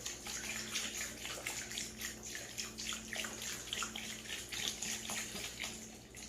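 Filtered spring water pours steadily from a container into a 6-quart crock pot of pork neck bones, a close, continuous splashing and gurgling with slight rhythmic surges.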